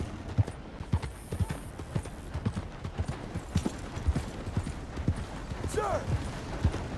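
Horse hooves clip-clopping at a steady walking rhythm in the video game Red Dead Redemption 2, moderately close, with a brief whinny near the end and faint background game sounds.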